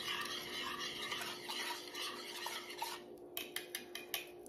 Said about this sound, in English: Do a quick little mixy.